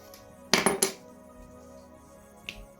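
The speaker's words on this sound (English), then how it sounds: "in order to open the main casing I'm gonna insert the key here and then gonna force it open" A car key forced into the seam of a Toyota key fob remote to pry the plastic casing open: three quick, sharp plastic clicks close together, then a fainter snap a moment later, close by with no talk.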